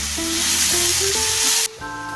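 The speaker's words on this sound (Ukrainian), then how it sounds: "Буду тепер його у сковорідці розморожувати." Frozen minced meat sizzles in a frying pan alongside lightly fried carrot, a loud, steady close-up crackle and hiss that continues throughout, with a brief dip near the end.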